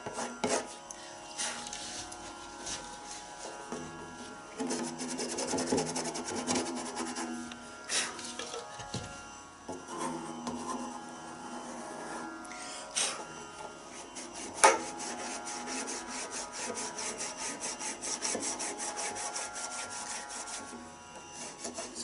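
Dry, scratchy rubbing across a tabla drumhead to clear away built-up powder, quiet and close, in steady strokes with brief pauses and a few sharper scrapes.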